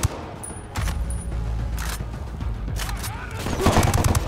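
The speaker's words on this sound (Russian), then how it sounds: "Меня стреляют." Gunfire aimed at the player in Ghost Recon Wildlands: bursts of rifle shots and sharp impacts crackle near and far, repeating irregularly over a steady rumbling bed and growing denser toward the end.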